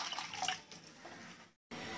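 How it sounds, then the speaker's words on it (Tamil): Water poured into a pot of kollu rasam (horse gram soup) while cooking, a short gurgling splash that fades, a brief gap, then a steady rush. "இன்னும் கொஞ்சம் தண்ணி சேர்த்துக்கலாம்."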